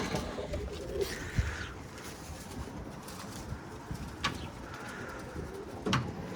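Pigeons coo softly in the background amid outdoor noise on a stormy day, a few low murmuring calls spread across the moment.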